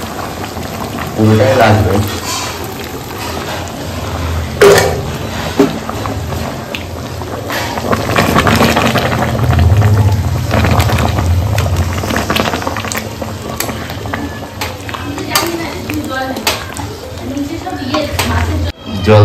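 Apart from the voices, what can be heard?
hot water poured into a mutton cooking pot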